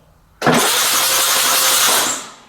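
An 80-year-old engine turns over and fires up abruptly, settling into a loud, steady rough running noise that tapers slightly at the end.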